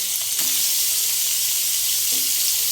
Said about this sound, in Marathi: आता यामध्ये मी पनीरचे तुकडे घालून घेत आहे याला छान फ्राय करून घेणार आहे